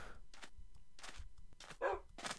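Dog barking in Minecraft, a series of short sharp barks and yips in quick succession, close and moderately loud, with no talk over it.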